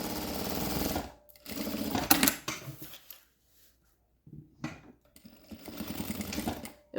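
An industrial sewing machine stitches a small jewelry pouch in several close, loud bursts of rapid mechanical whirring separated by short pauses. No one speaks.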